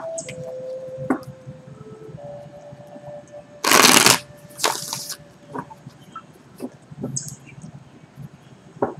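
Tarot cards shuffled by hand in short riffling bursts, with one loud dense burst near the middle and a second just after, close and clear with faint handling noises between and no talk.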